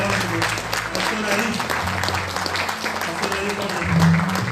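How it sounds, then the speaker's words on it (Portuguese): A church congregation claps for the Lord during an evening worship service, a dense wash of applause blended with voices and background sound. "Você pode aplaudir ao Senhor?"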